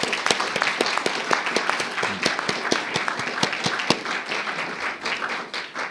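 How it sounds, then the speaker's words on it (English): At a school board meeting, an audience applauds the school counselors, with sharp, distinct claps from a modest crowd close by that thin out and fade toward the end. "Let's give a big round of applause for our counselors."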